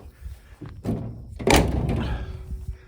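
A truck door on a 1970 GMC C2500 with a broken, stiff upper hinge is swung shut, giving a heavy close thunk and metallic clunk near the microphone, with no talk.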